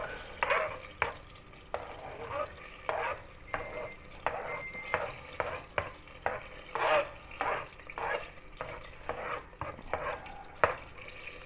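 Chopped onion and garlic fry quietly in a pan for mushroom soup, soft sizzling punctuated by repeated rhythmic scrapes and clinks of stirring.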